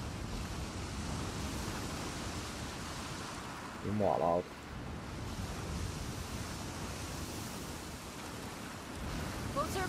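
Steady rushing water flows through a sewer tunnel in The Last of Us 2, a soft, continuous wash that fills the scene, broken by one short spoken curse in the middle.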